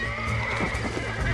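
A horse neighs in the video game Red Dead Redemption, giving a steady high whinny over a dense background of game sound. The call is moderately loud and continues for the whole short clip.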